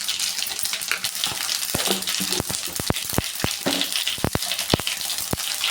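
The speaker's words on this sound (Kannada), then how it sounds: "ಒಂದು ಸ್ಪೂನ್ ಜೀರಿಗೆ ಹಾಕೋತಾ ಇದ್ದೀನಿ" A spoonful of cumin seeds hits hot oil in a pan, giving a loud, close, steady sizzle broken by many sharp pops and crackles scattered irregularly throughout.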